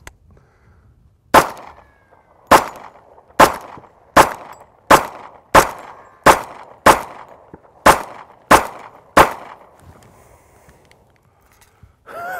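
A 1911 pistol fires after being submerged underwater: about a dozen sharp, loud gunshots spaced roughly evenly outdoors, each with a short echoing tail, and quiet gaps between.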